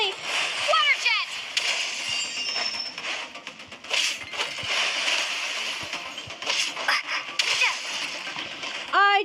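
Water splashes and sprays in Genshin Impact during combat, with continuous busy gushing and splattering, chirpy game effects and a voice speaking over the action.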